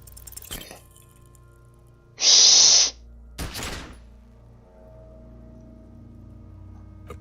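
A single gunshot in the detective role-playing game Disco Elysium, a sharp loud burst with a bright ringing tail, followed by a second shorter crack and then quiet low background hum.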